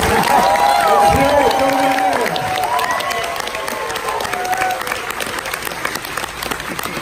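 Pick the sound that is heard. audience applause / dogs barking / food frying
audience applause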